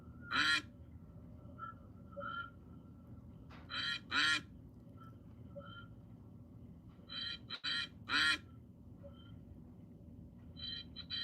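Ducks quack in repeated short bursts, loud and close, with gaps of quieter ambient noise between calls.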